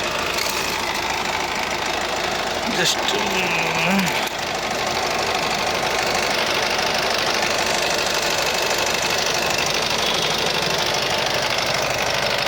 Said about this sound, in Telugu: ఒకసారి మళ్ళీ స్టార్ట్ చేస్తున్నాను చూడండి అన్న ఇంజిన్. ఓకే, సింగిల్ సెల్ఫ్లో, నాయిస్లెస్ సింగిల్ సెల్ఫ్లో బండి స్టార్ట్ అవుతుంది.